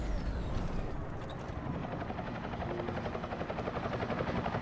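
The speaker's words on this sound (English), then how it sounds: "Helicopter is loud." Helicopter in the game Deus Ex: Human Revolution, a loud continuous rotor throb with fast chopping pulses, steady and close throughout, no talking.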